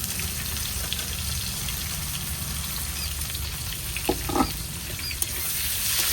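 Onions fry in oil with five-spice seasoning for a jackfruit and prawn curry, giving a dense, constant sizzle with a brief scrape of stirring partway through.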